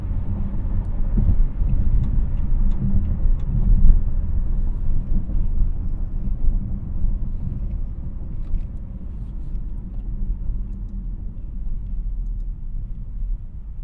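A 2023 Maserati Grecale Trofeo sports SUV driven hard, its engine giving off a loud, steady low rumble with road roar that fades slightly toward the end, with no voices.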